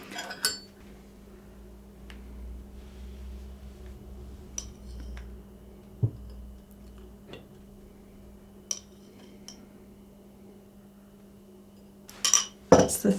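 Three tablespoons of cream spooned from a jug onto a flattish dish, with sparse light metal-on-ceramic clinks and taps spaced over a quiet kitchen hum, ending in a brief clustered rattle.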